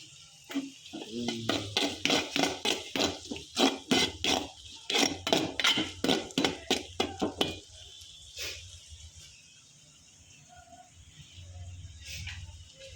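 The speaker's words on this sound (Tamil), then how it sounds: "இதெல்லாம் வதக்கலாம்" Ingredients being sautéed in a pan give a quick rhythmic run of close stirring scrapes and clinks, about twenty strokes, before a quieter stretch with only faint sizzling.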